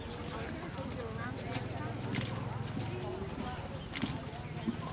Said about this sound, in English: right now, Miss Anne is warming up the horse